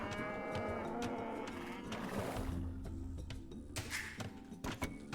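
Cattle in the Age of Empires 2 strategy game low and moo in a noisy mix of game sounds. Sharp clicks and impacts run through the mooing, with a rougher swell near the middle.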